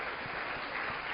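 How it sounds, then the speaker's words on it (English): Brief burst of steady applause from a lecture hall audience, dense clapping filling the short moment without any talk. "Let's give them a round of applause."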